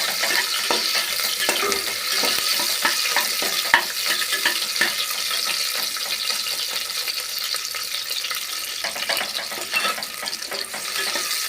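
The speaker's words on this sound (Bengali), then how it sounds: "পেঁয়াজ থেকে লাল লাল করে পেঁয়াজটা ভাজবো ভালো করে।" Onions frying in oil until browned, a dense continuous sizzle with light stirring scrapes throughout and no talk.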